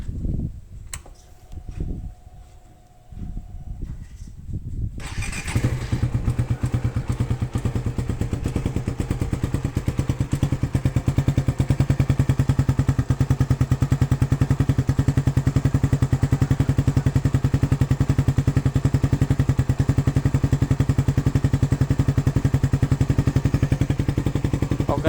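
A Suzuki Satria FI motorcycle fitted with an SCD Euro racing exhaust starts up after some faint handling noises, then settles into a loud, steady, throbbing idle that runs close and uninterrupted for about twenty seconds.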